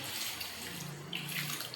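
Water pouring into a simmering pot of pumpkin and dried fish curry in a home kitchen, a soft continuous splashing trickle, quiet and fairly close, lasting under two seconds with no talk.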